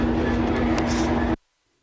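Trains at a California station fill the air with a loud, steady rumble and hum and a few brief higher screeches, then the sound cuts off abruptly into silence.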